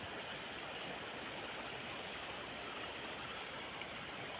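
Water in a stream flows and rushes steadily in the Baguio and Benguet highlands during stormy weather, a constant broadband hiss of moderate, even loudness, with no voices.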